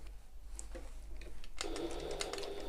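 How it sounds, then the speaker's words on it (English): A sewing machine stitches across the turning gap of a tote bag, starting with faint clicks and then settling into a louder, steady motor whir with rapid needle ticking that runs to the end. "I'm sewing across the turning gap now"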